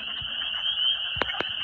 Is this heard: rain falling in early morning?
no